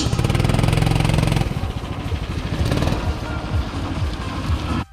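Internal-combustion go-kart prototypes run on the track at the open kart constructors' cup, Podillia 2023, loud buzzing engines passing close throughout, one steady drone first, then overlapping uneven revs until the end.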